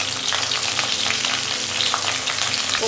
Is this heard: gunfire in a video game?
no